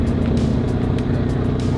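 A Mazda Miata's exhaust rumbles steadily and close at a Miata meet outside a café, holding a loud, continuous low drone without pause.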